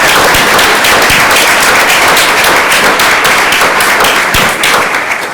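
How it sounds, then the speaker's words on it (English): Audience giving a round of applause, dense and steady clapping that fills the whole stretch at close range, with no one speaking over it. "that deserves a round of applause"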